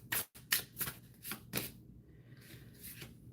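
Tarot cards being shuffled by hand, several quick riffling bursts in the first half, then softer, sparser card sounds, close and fairly quiet with no talking.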